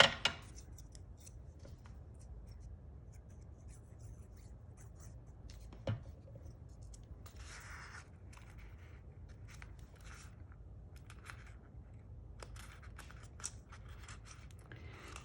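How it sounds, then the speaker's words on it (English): Scissors trim a paper scrap for a pocket in an altered book journal, giving a few faint, soft snips and light paper rustles against a quiet room. "So I'll just trim a little off of that one."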